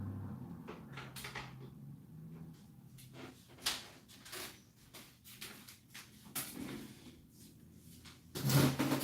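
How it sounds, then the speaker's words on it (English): An indoor door is being closed, with scattered knocks, rattles and handling clatter over several seconds and a louder bump near the end as it shuts. "Let me close this door."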